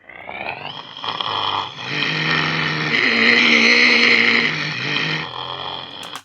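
A simulated car engine from a Unity game demo, a tonal whine that rises in pitch as the car starts driving, holds a strained high note, then settles and cuts off, loud and alone.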